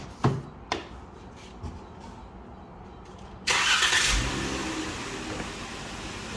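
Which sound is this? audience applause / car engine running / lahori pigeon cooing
car engine running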